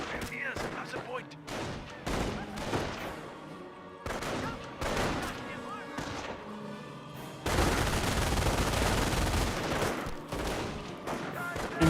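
Battle sounds from Company of Heroes, a World War II strategy game: bursts of machine gun fire mixed with rifle shots and other combat noise. Near the end the firing swells into a dense, loud barrage, with speech-like sounds heard throughout.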